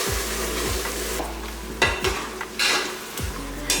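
Finely ground masala paste poured into hot oil in a pan for mutton dum biryani, crackling and sizzling loudly with bursts as it hits, plus scraping and clinks of a spoon stirring against the pan.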